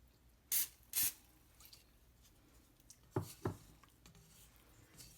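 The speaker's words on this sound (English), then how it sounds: "We can use extra virgin olive oil spray" Two quick, sharp hisses of an extra virgin olive oil spray can near the start, then a few soft clicks and taps in an otherwise quiet room.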